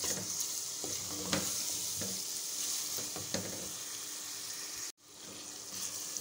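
Spices and minced meat (qeema) fry together in a pan as they are stirred, a steady close sizzle with scraping stirs and occasional taps, cut by a brief silence near the end before the frying resumes.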